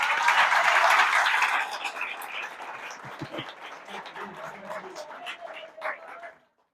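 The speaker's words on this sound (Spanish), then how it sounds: "¿Cuándo dan el aplauso al Señor?" Church congregation applause, loud at first and then thinning into scattered claps with voices and shouts over it.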